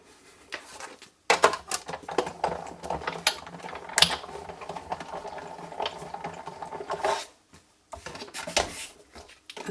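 A sewing machine stitches a paper window valentine box in rapid mechanical bursts of whirring and clatter, broken by short pauses and small clicks, heard close.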